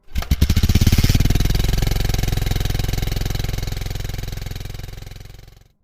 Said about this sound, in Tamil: அனைவர் பைக்குகளும் கேப்டன் ஒயின்ஸ் நோக்கி சென்றது